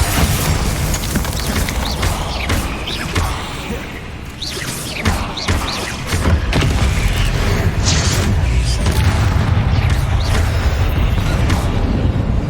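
Loud, dense spell combat from Hogwarts Legacy: Bombarda explosions boom and thud alongside crashing debris and clattering impacts, the barrage easing briefly midway before resuming at full force.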